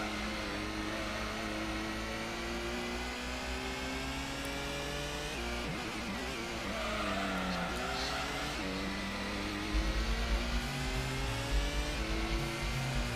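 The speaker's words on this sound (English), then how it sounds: "Just drifting around corners" Engine whine of a tuned car drifting around corners in the PS1 racing game Gran Turismo, a steady droning rev with shifting pitch throughout and a slight rise in level near the end.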